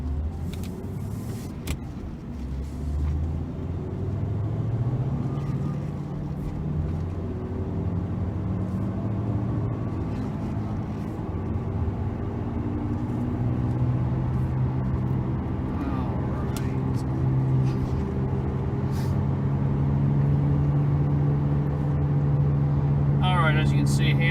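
A gray 2007 VW Rabbit drives down the road, its engine droning and rising steadily as it accelerates, with road rumble heard from inside the car throughout and a voice speaking occasionally.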